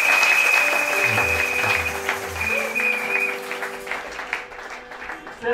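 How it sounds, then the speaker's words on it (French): A Sunday school congregation at a Branham tabernacle applauds with steady clapping under a sustained organ or keyboard tone, the applause thinning toward the end. "Sous vos applaudissements"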